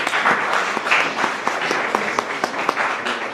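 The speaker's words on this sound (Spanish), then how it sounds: "Les pido un fuerte aplauso para el doctor Iñaki Navarro" Applause from an audience at a hospital general session for a doctor about to present on pediatric pulmonary hypertension. Distinct individual claps stand out over a moderate, steady patter that lasts a few seconds.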